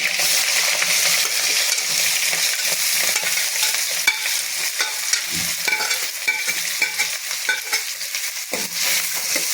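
Chopped onion sizzles in a hot pan with mustard seeds, a steady frying hiss broken by repeated scraping and clinking of a spoon stirring, close and fairly loud throughout with no talk.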